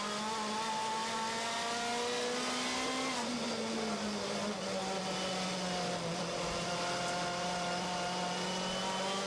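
Front-wheel drive WTCC touring cars cornering at Shanghai, their engines droning loudly and steadily throughout with shifting pitch as they pass, no voices over the sound.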